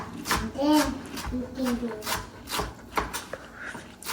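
Knife finely chopping onion on a board, a string of irregular, sharp, close taps mixed with soft scraping, under a voice that keeps talking throughout.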